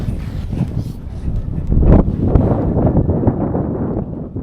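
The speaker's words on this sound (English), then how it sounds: "Just in time for the breeze to start up" Steady breeze blowing across a sailboat riding at anchor, a continuous broadband rush that swells louder midway and keeps gusting to the end.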